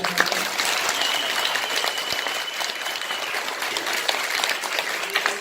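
Steady, full applause from an audience at a children's year-end stage show, a continuous dense patter of many hands throughout.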